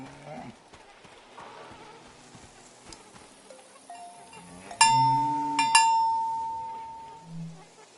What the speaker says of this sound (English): The sound of this bell has a lot of character.